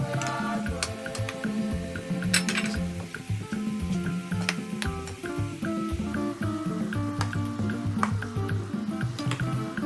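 Sugar-coated peanuts fry in oil on moderate heat, giving a steady crackling sizzle with sharp ticks and clicks as they are stirred in the pan.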